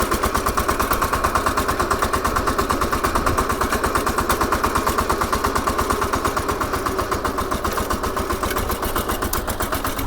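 A VST Shakti 130DI tractor engine pulls away in second gear, its rapid, even diesel thumping loud and close, a steady machine-gun-like pulse for the whole stretch.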